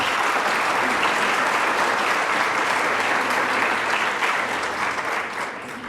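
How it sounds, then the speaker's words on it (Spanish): Sustained, dense applause from an audience at a talk on Angelman syndrome genetics, a continuous loud wash of clapping that fades slightly toward the end. "Un aplauso."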